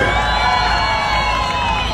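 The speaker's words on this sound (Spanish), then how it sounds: "Me van a levantar los brazos y gritar por el Aveo Verde." An event crowd at an open show in Colombia cheers and shouts for a green Chevrolet Aveo car, a dense loud roar of voices and whoops filling the whole moment.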